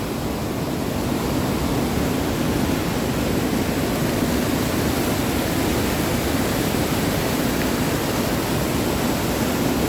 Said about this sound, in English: The water's really coming down